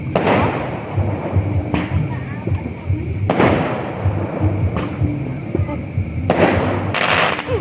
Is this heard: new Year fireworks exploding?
yes